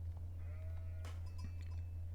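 Sheep in Age of Empires IV bleat once in a short wavering call over a constant low game hum, followed by faint clicks and interface ticks, with no speech.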